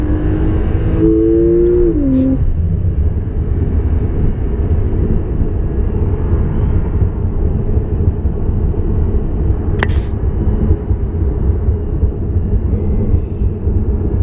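A 560 hp Porsche 911 Turbo S engine revs hard toward redline during a test drive, a loud, sustained roar close up with a rising tone early on.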